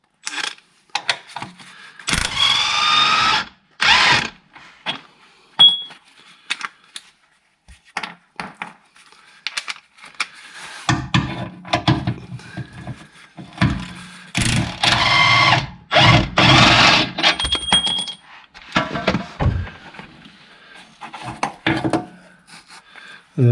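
An impact gun fitted with 21 mm and 18 mm sockets undoes the lower rear engine mount bolts on a Vauxhall Vivaro, loud close rattling bursts of varied length separated by silences and clanks.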